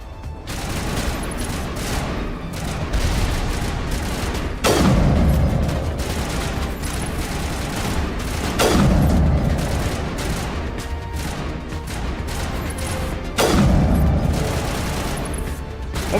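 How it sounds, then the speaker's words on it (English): Rocket explosions and gunfire in Mass Effect 1 Legendary Edition, with constant loud rapid fire filling the whole stretch and three heavy booms about every four seconds, each sweeping down into a rumbling tail, with no talking. "Oh my god, it's a rocket!"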